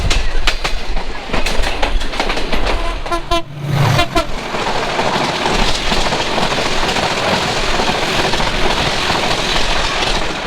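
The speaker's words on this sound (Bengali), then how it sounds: "বাংলাদেশের luxurious super service express train" The Chilahati Express, a Bangladeshi passenger train, runs loud and close along the rails with a heavy continuous rumble, rhythmic clatter of wheels over joints, and a brief horn toot partway through.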